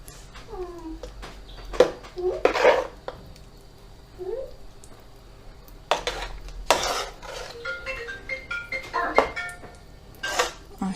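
A spoon stirs spiced zucchini caviar (squash spread with black pepper, hot pepper and sweet paprika) in a pot. Scraping and clinking comes in a few bursts, close and moderately loud, with quiet gaps between them.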